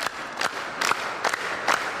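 A group claps along in rhythm during a Filipino rap battle reaction, with sharp bursts of hand claps arriving roughly every half second against a quiet crowd background.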